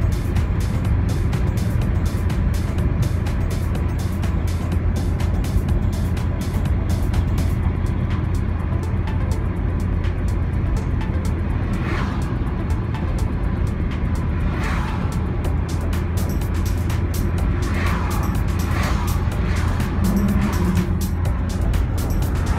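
A 1999 Toyota Corolla with a replacement engine drives uphill: a continuous, loud engine drone and road rumble heard from inside the car, steady throughout, with faint wind noise and no voices.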